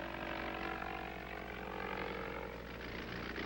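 An early propeller airplane drones overhead in a 1950s recording, the engine and airscrew producing a steady, loud, continuous hum with a buzzing harmonic texture that holds evenly throughout without pause.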